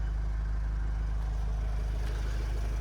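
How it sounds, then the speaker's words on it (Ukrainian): A 2010 Renault Trafic van's 2.0-litre diesel engine idles steadily nearby, a low, even rumble with a faint rhythmic knock and no talking. "От тут чути роботу мотора."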